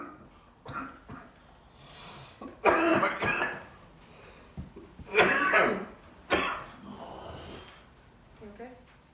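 A patient coughs in several harsh bursts while the abdomen is being palpated for the liver, with throat clearing and breathing between the coughs, close and fairly loud.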